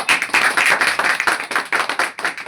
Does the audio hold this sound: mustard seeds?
no